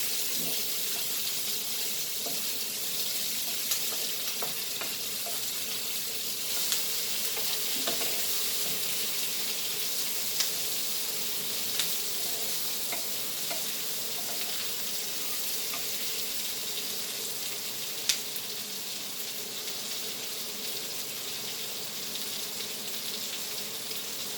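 Onions fry on a slow fire for Goan prawn chilli fry, giving a long, even sizzle broken by occasional light clicks and scrapes of a spoon against the pan.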